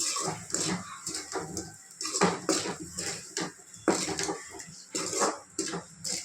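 Boiled potatoes being stirred into masala gravy in a pan, with repeated scraping and clinking of a spoon against the metal in an irregular rhythm, close and fairly loud.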